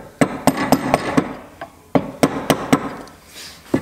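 A hammer or mallet strikes a chisel into English oak timber in a run of sharp, close, ringing blows, roughly steady in rhythm with short pauses between groups, and no voices.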